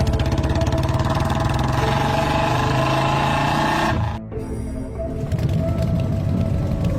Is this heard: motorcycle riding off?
yes